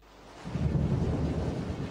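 Rumbling thunder used as a sound effect in a radio announcement about severe storms, swelling after a quiet start into a loud, sustained low roll with no voices.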